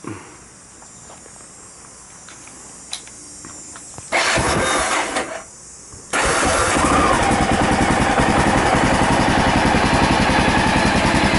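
A Honda XR650L motorcycle is started up: a quiet stretch, then a brief cranking burst and stall, followed by the single-cylinder engine catching and settling into a loud, steady, close idle that continues to the end.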